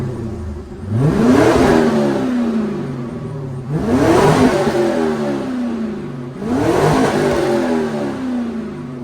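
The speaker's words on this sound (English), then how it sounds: "The factory cats and the factory Y pipe are totally killing the sound of this car" The LS1 V8 engine of a police Camaro, exhaust muffled by factory catalytic converters and Y-pipe, revs hard three times in evenly spaced bursts, each climbing and falling away, close and loud with no talking.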